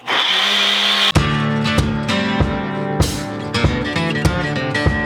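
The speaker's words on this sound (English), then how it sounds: "and we blend." A kitchen blender whirs loudly as it blends orange and lime juice into a jerk marinade; a hissing start gives way to a steady motor drone with rhythmic knocks from the jar.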